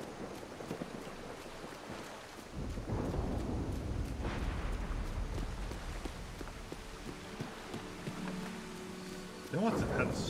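Thunderstorm with rain in the Disney Dreamlight Valley video game: a steady wash of rain with low rumbling thunder building after a couple of seconds and a fresh surge near the end.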